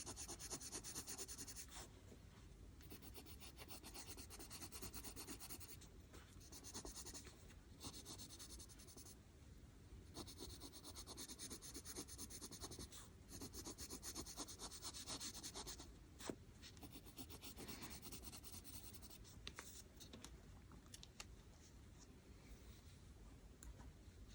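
Lightfast coloured pencils scratch and rub across paper in close, quiet strokes, a soft continuous scribbling with brief pauses between passes and no talking.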